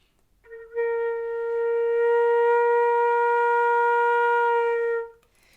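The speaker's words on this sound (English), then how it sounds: "that's a crescendo, and that just means gradually get louder" A single sustained flute note held steadily for several seconds, swelling gradually louder before cutting off cleanly.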